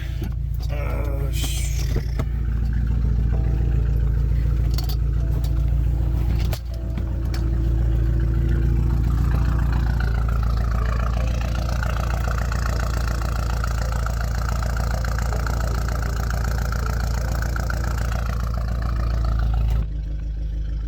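A tuned BMW F30 328i with the N20 engine idles with its exhaust running, a steady low rumble heard up close throughout, with a few brief clatters and a faint higher tone in the middle stretch.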